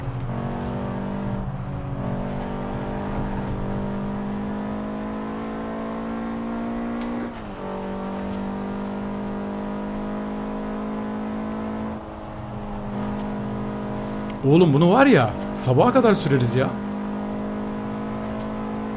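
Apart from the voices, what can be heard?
modified Audi S1 engine revving, from video game Forza Horizon 4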